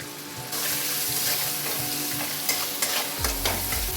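Spice masala with chopped tomato, turmeric, coriander and red chilli powder frying in a pan, a loud close sizzle with rhythmic scraping stirs and a burst of extra hissing near the end.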